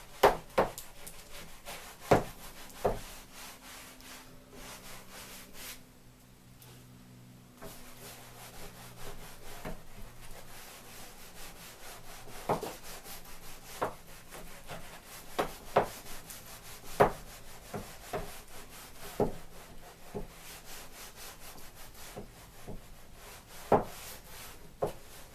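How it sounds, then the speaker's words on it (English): Firenzecolor Novalux primer is worked into a wall with a Krok roller in a soft continuous rubbing and scraping, with sharp irregular taps and clicks now and then, close and quiet, with no talking. "You're just going to rub it in"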